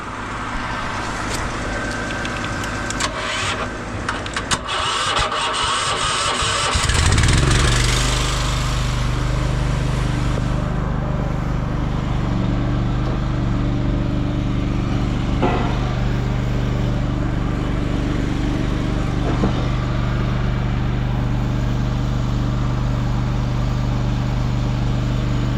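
Concrete pump running in forward strokes to push a Go Devil cleaning ball back through the line, a loud steady engine drone with low rumble that ramps up after a noisy start and holds steady with faint periodic clunks.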